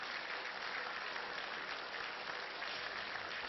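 Steady applause from an assembled crowd following a handshake between Narendra Modi and Nawaz Sharif at an informal leaders' retreat, dense and continuous throughout without individual claps standing out.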